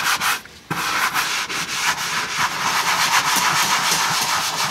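A brush scrubs cleaner into a leather car seat with loud, continuous rough scrubbing strokes close to the microphone, briefly pausing near the start.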